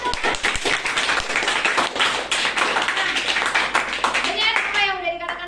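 Classmates clapping for a student in an Indonesian classroom lesson, a burst of quick, close hand claps with children's voices and chatter mixed in, fading as a tone sounds near the end.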